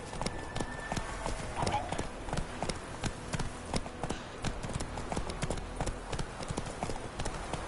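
Roach, Geralt's horse in The Witcher 3: Wild Hunt, gallops with rapid rhythmic hoof clops, close and steady throughout, under a faint background bed of game ambience.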